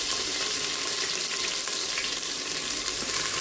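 Ginger garlic paste frying in a pan for chicken kulambu, a dense, continuous hiss and crackle of hot oil, close and even throughout with no talk.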